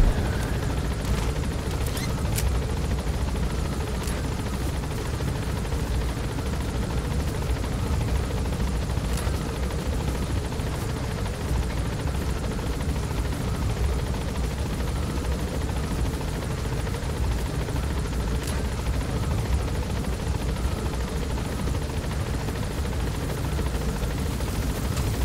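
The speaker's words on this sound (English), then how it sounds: "I'm waiting for the helicopter to leave" A helicopter in the video game Metal Gear Solid V on PS5 hovers with a steady continuous rotor drone, with scattered bursts of gunfire and faint impacts over roughly twenty-five seconds.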